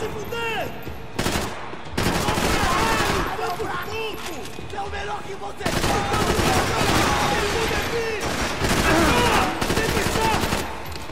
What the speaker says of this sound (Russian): Здесь стреляем.